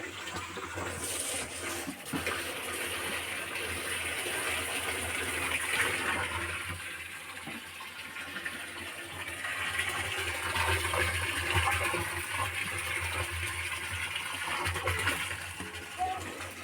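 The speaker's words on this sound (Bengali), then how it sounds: "তো এবার জল তুলবো, কারণ ধোয়া মোছা করার পর না ঘরের অবশিষ্ট জলও শেষ হয়ে গেছে।" Water being drawn for the household, heard as a steady, close rush and splash of flowing water that runs for the whole stretch with little change in level, and a faint hum underneath.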